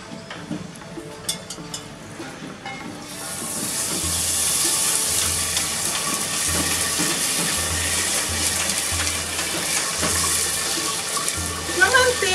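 Butter melting in an iron cauldron set on a tripod over a wood fire, giving a broad steady sizzling hiss that swells after a few seconds, with crackling and low rumbles from the fire underneath; loud and close.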